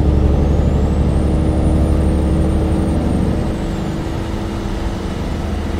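Steady low diesel drone of a 2018 Volvo VNL truck engine in American Truck Simulator, cruising at constant load with a faint rising whine above, continuous and loud with no voices.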